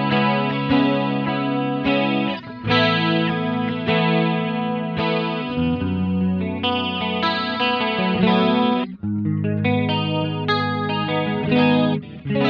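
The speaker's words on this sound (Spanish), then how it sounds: "Me puedo ir a la 3 y a la 4 y combinarlas, sí, ambas, que son las que sonaban más tipo chorus" An electric guitar runs through a BOSS Dimension C Waza Craft pedal with two chorus modes combined. Chords and arpeggiated notes ring steadily for about twelve seconds, wide and shimmering, loud and close with no talking.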